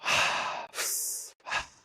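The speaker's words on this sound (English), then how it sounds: "So we'll start with just mouth breathing, in and out through the mouth." Someone breathes in and out through the mouth in a slow, audible cycle: a long breathy exhale, a sharper inhale, then another short exhale, close and fairly loud with no talking.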